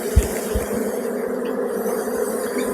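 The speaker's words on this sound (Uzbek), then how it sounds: "Mana ari gupullab kelyapti." Honeybees buzz steadily and loudly around an open beehive during spring queen introduction, a dense continuous hum with a few low knocks near the start.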